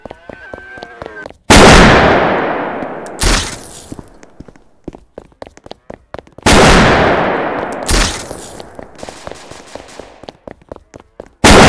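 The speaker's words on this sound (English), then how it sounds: "We have a suspect armed with a sniper rifle opening fire in public." Repeated sniper rifle gunfire in the Roblox Emergency Simulator police game: two loud, sharp shots a few seconds apart, each with a long decaying echo, and scattered small clicks and taps in between.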